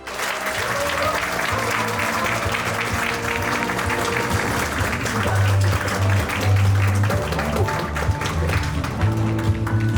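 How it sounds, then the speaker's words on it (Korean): Sustained congratulatory applause fills the hall at an award ceremony for a Korean speaking contest for international students, a steady dense wash of clapping from a large seated audience over a low background tone. "다시 한 번 더 축하의 박수로 수상을 하겠습니다"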